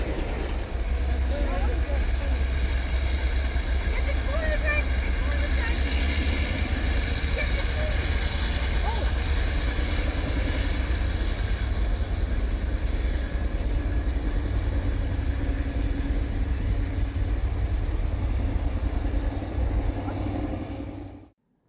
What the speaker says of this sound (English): Seems like they started one of the Alcos.